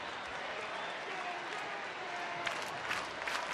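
A baseball stadium crowd at a Houston–Texas game on a fireworks night makes a continuous broad roar of murmur and scattered clapping, with a few louder bursts near the end.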